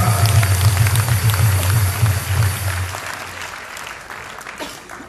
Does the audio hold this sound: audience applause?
yes